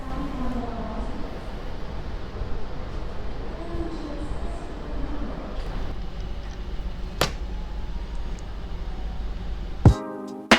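The interior of the Ambarawa Express economy-class train carries a steady low rumble of rolling stock. A few sharp clicks and a brief tonal burst come near the end, and no one speaks.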